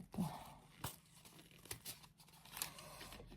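A package being torn open by hand, with faint ripping and crinkling of wrapping, a few sharper snaps between quieter rustles, all close and low in level.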